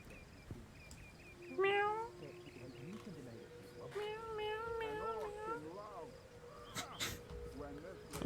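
A cat meows several times in the video game Divinity: Original Sin, its rising wavering cries close and clear over a game tone, with a voice talking in between.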